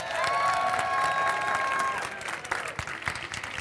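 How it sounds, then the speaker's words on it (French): An improv match audience applauding both teams with dense clapping, a bright tone over the first two seconds, then the clapping thins into scattered claps. "on peut applaudir les deux équipes, s'il vous plaît?"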